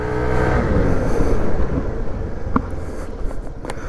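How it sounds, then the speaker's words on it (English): A Daytona ADV scooter prototype slowing under firm braking after a run up to 75 km/h, heard as a loud engine and road roar that gradually eases, with a few sharp clicks near the end. "Braking. Not emergency braking, but decent braking."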